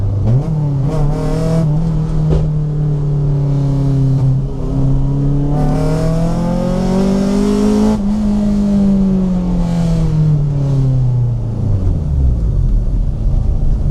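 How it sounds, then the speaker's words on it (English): A Honda Civic 1.6i VTEC EE9 with a JDM-spec B16A engine blips the throttle on a downshift, the engine note rising and falling in several loud revving swells, close and unaccompanied by talk. "This is the change down on the throttle blip."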